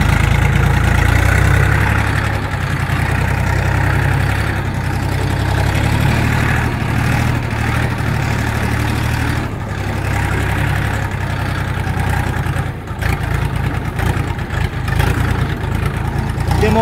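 A mini tractor with a KM385BT engine drives in raised first gear, its engine chugging steadily and loudly at a constant pace, with a brief dip near the end.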